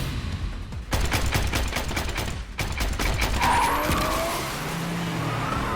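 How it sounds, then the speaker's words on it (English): Car tires skidding and screeching as a car drifts hard, with rapid bursts of gunfire crackling over the squeal and a rising whoosh afterward, loud and close. "Nanaku swerved and drifted with perfect skill, dodging every blast."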